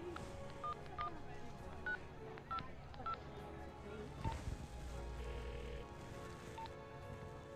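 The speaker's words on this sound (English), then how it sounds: "I'm gonna make a quick phone call." Telephone keypad dialing, a series of short beeping tones spaced about half a second apart, heard close over a faint background hiss of rain, followed by a low rumble.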